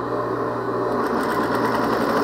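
Sewing machine running a second seam directly over the first, a steady close mechanical whir with a fast even stitching rhythm and no speech.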